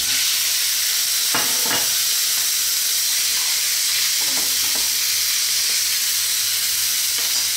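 Pork returned to a pan of onions, garlic and ginger fries with a steady broad sizzle, with a few clacks of stirring and utensil contact rising briefly over the continuous hiss.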